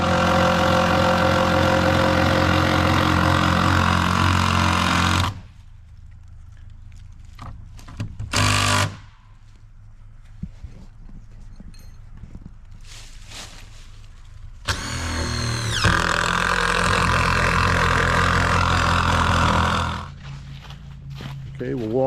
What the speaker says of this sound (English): And I'm just going to drive them in with an impact driver.